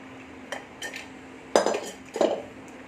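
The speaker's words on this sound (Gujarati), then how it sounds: "આ રીતના ચમચાની મદદથી એકદમ સરસ આપણે એને દબાવીને કાઢી લેવાનો છે એનો પલ્પ." A spoon presses boiled drumstick (moringa) pulp out into a vessel below, making several close metallic clinks and scrapes, the last two louder and rougher, with no voices.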